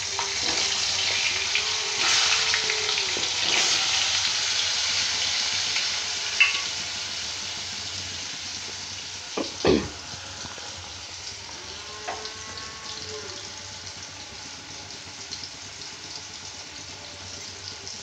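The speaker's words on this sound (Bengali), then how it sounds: "এগুলো আমি এবার তেলের মধ্যে দিয়ে দিচ্ছি" Papaya pieces frying in oil in a pan, a continuous close sizzling hiss with a few isolated knocks and clinks, steady throughout with no speech.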